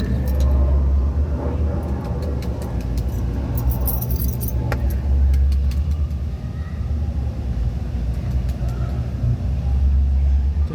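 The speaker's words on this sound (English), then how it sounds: "This goddamn key ain't working." Keys jangle and scrape in a stubborn door lock, a close metallic rattling that comes and goes over a heavy, constant low rumble from a nearby engine or passing traffic.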